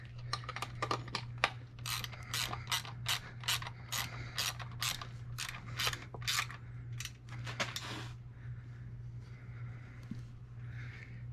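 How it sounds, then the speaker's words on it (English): A Craftsman ratchet wrench tightens a bolt while a rearview mirror goes onto a John Deere loader: a close, rapid series of sharp metallic ratchet clicks in bursts over several seconds, then quieter scraping and a low steady hum. "I should have a ratchet wrench made by Craftsman so we can ratchet this thing."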